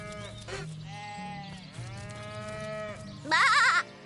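Several sheep bleat one after another in Divinity: Original Sin, wavering and nasal, ending with one loud, shaky bleat close by.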